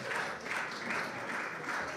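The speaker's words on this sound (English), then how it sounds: "palume siia lavale aplausi saatel with a round of applause" Audience applause at a sommelier competition stage event in Estonia, steady and moderately distant, a continuous patter of many hands without voices.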